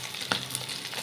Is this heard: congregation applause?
no